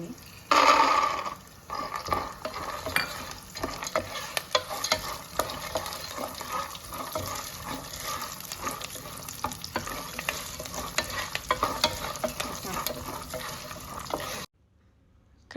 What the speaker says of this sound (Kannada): ಮೆಣಸಿನ್ಕಾಯಿ ಕರಿಬೇವು ಇದಕ್ಕೆ ಕಡಲೆ ಬೀಜ ಕೂಡ ಹಾಕುತ್ತಾ